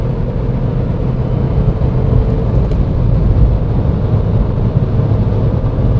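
A Dacia Logan 1.0 TCe ECO-G 100 with a six-speed manual gearbox revs hard under full throttle, a steady loud cabin drone of engine and road rumble with brief dips at the gear changes.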